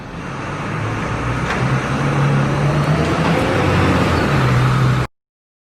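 A bus runs with a continuous low engine hum and road noise, close and steady throughout, with a few faint clicks and no voices.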